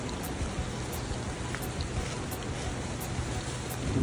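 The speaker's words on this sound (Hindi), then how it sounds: "अब भीग रहे हैं बारिश में।" Rain falling on a mountain trail in the hills near Manikaran, a continuous, even patter and hiss with no talking.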